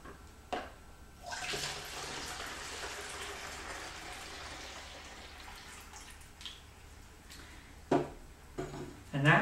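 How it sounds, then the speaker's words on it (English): Water poured into a container to mix and activate effective microorganisms, a steady broadband rush lasting several seconds, followed by a few brief knocks and clunks near the end. "And then I just add the rest of the water."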